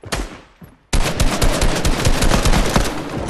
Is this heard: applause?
no